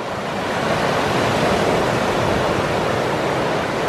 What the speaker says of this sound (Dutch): En er beginnen wel wat hogere golven te komen.